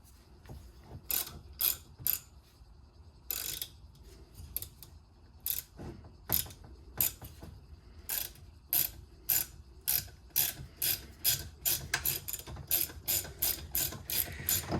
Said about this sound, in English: This is tapping beautifully. I mean, soft aluminum as it is